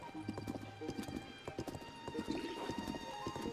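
Horse hooves clip-clopping in the video game Zelda: Tears of the Kingdom, a steady trotting rhythm of clear, close hoof strikes with a brief whinny and game ambience around it.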